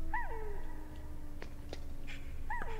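A dog whimpers in the video game Metal Gear Solid, two short, faint, high whines with a thin tone and a pause between them, over quiet ambient game sound.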